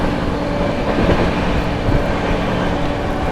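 The New Delhi–Gaya Mahabodhi Express approaches on an Indian rail line in foggy conditions, a steady loud rumble of wheels and carriages without a break.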